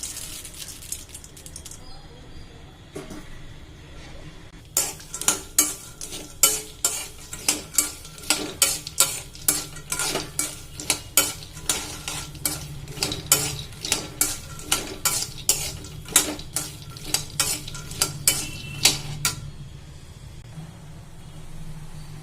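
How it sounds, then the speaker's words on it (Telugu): Peanuts stirred in hot oil in a pan, a steady sizzle with repeated sharp scrapes and clinks of a spoon against the metal, close and prominent, continuing for most of the stretch before settling back to a quieter fry. "ఇప్పుడు గోళంలో కొంచెం ఆయిల్ వేసేసి ఈ పప్పుల్ని వేపేసుకున్నాం"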